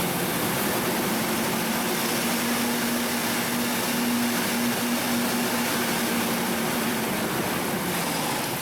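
A car engine idles at low RPM while it bypasses too much air through its throttle body, a steady broadband rumble with a faint low hum that stays constant throughout, loud and close.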